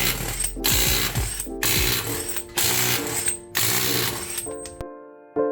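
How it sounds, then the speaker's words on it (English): A ratchet works loose fasteners while a Mazda CX-9 wheel and brake caliper come off, with four loud, close bursts of rapid clicking, each separated by a brief pause, before a quieter metallic tail. "So let's go ahead, get this wheel off and get that caliper off."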